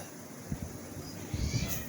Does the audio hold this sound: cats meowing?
yes